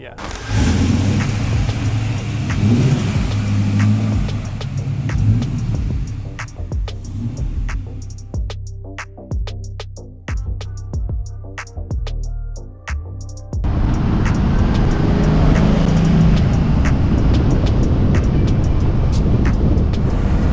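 A 600HP LS7 V8 Pontiac Grand Am pro-touring build drives and revs, a deep engine rumble that rises and falls through gear changes, quieter midway, then surges loudly again, with people talking inside.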